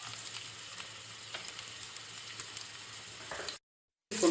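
Onions sizzle and fry in oil in a pan while a Tamil chicken-stuffed dish is cooked, a steady soft crackle with occasional stirring clicks, then a brief silence and a louder burst at the end.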